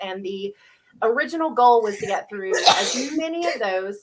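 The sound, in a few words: sneeze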